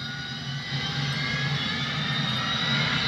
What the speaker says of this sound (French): Avion à décoller.